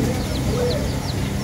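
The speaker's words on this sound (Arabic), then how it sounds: "هاي الدجاجة هي وفراخة." A hen clucks close by with her chicks at a Saturday bird market in Baghdad's Zafaraniya district. Short, repeated clucks and soft peeps rise over a busy, steady market hubbub.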